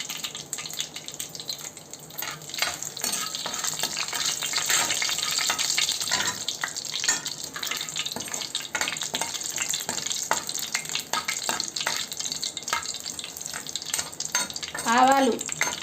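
Mustard seeds, cumin and two dried red chillies splutter in hot oil, a continuous close crackle with busy popping and stirring scrapes throughout, no voices, ending in a brief louder burst.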